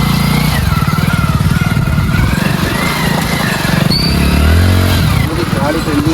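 Motorcycle engine revving and labouring as the bike is ridden out of thick mud in a farm field, loud and close with rising and falling throttle, someone talking over it.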